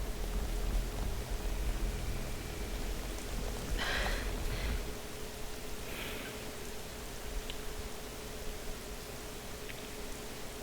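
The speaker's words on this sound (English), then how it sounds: "Man, it's raining here." Steady rain falls in the Xenoblade Chronicles 3 video game as an even, hissing wash that runs the whole time, with a few faint splashy accents partway through.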